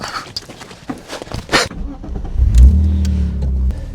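BMW E46 Compact with a welded differential pulling away in first gear, a low engine rising loud and close in the last seconds after some scuffing and clicks.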